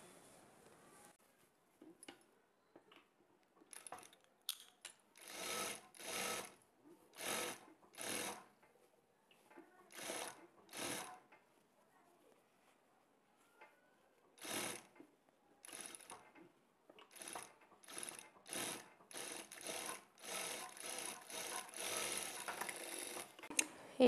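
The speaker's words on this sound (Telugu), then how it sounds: "ఇప్పుడు రెండవ స్టిచ్ని వేసుకోవాలి" A sewing machine runs in repeated short bursts while stitching the second seam of a prince-cut boat-neck blouse, with quiet pauses between the runs and faster, denser stitching toward the end.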